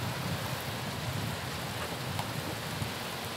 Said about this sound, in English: Hey, it's rain.